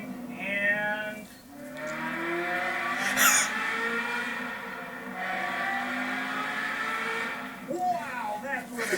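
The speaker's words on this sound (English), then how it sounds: "approaching the tunnel. Downshift a couple of times." A car engine revs and downshifts while driving into a tunnel, rising and falling whines repeated several times with echoing tone, under someone talking.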